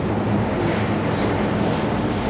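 Rough sea waves on the Jurassic Coast at Exmouth, a continuous loud roar of surf mixed with heavy wind buffeting the microphone, steady throughout with no voices.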